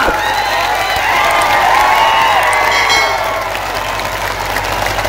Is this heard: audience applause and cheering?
yes